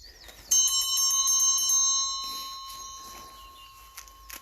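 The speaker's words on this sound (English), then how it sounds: "That school bell was just showing you that you've done half your program today." A school bell rings in a rapid metallic trill for about a second and a half, then its tone hangs and slowly fades, marking the halfway point of a Couch to 5k running workout.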